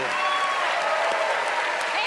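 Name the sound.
audience applause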